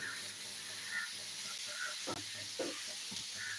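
Onions frying in oil after popping mustard seeds for a Malabar-style chicken dish, a soft steady hiss and sizzle heard faintly from a distance, with a few brief clinks and stirring sounds.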